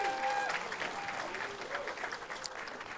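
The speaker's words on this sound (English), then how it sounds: "Round of applause for our nominees." Audience applauding nominees at an indie film award show, a steady dense wash of clapping with some cheering that holds at an even level for the whole stretch.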